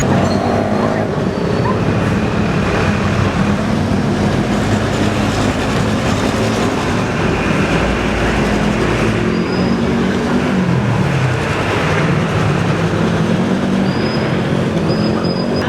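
Steady engine and road rumble inside a moving jeepney heading toward Padre Faura, a continuous loud ride noise with rattles throughout and no clear talk.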